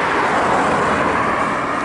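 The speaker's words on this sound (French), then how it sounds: "j'en ai marre d'entendre tous ces bagnoles" Steady road traffic roars on a busy street as cars pass, a dense, loud wash of engine and tyre noise with no gaps.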